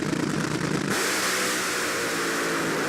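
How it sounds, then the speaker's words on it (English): Top Fuel dragster engines roar loudly at a drag strip. A broadband, sustained, saturated blast of engine noise rises abruptly partway through and holds steady. "I think, personally, it's the sound of the motors."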